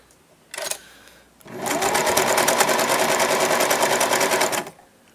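A sewing machine stitches fabric in a steady, rapid run of needle strokes for about three seconds, close and loud, preceded by a short burst of machine noise.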